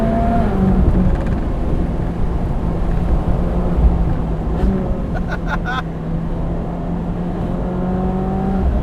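A 2015 Ferrari 458 Speciale Aperta engine pulls from low RPM with a loud, grumbling drone and steady rising harmonic tones, heard from close inside the open car, with a brief clatter of clicks midway.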